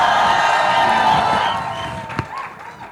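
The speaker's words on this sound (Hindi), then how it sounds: "रणबीर बैठा है, इसके लिए ताली बजा दो एक बार यार" At a film trailer launch event, an audience cheers, whoops and applauds loudly. The roar is sustained and then tapers off into scattered claps and calls.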